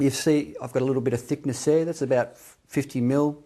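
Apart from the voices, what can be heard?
No everyday noises stand out.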